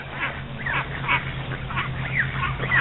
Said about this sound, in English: More Megan's geese